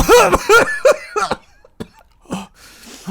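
Tabletop role-playing player voicing a revived creature's coughing fit, a run of harsh, close hacking coughs followed by a couple of quieter throat-clearing coughs, with the voice imitating the creature.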